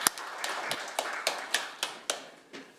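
Sparse clapping at a Korean debate on teachers' political rights as a speaker is welcomed, a handful of sharp hand claps spaced about every quarter second, fairly quiet and with no voices.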